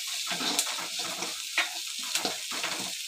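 Tempering spluttering and frying in a pan while cooking pudalangai kootu, a steady sizzle broken by sharp crackling pops at irregular intervals, close and alone.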